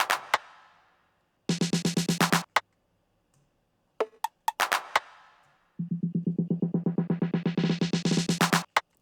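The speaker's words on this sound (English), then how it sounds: "I added some small percussions and some fills." Small tech house percussion fills play in short, rapid rolls of clicky hits, separated by gaps, ending in a long accelerating roll that brightens as it builds.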